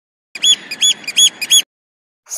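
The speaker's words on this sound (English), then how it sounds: "Seagull." A seagull gives a run of five short, bright, repeated calls in quick succession, close and clear against silence, with the start of another call at the very end.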